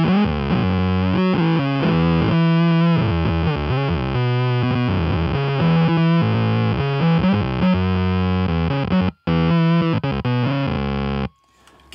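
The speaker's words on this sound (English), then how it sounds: "it's a fat sort of fuzz bit crusher sound" Electric guitar through a Mammoth Cobra Commander fuzz bit crusher pedal, giving a fat, heavily distorted, gritty tone; loud sustained chords and riffs play continuously alone, with one brief dropout before cutting off near the end.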